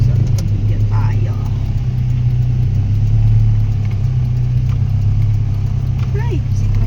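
A tricycle engine drones steadily and loudly close by, a continuous low motor rumble throughout with no clear changes in pace.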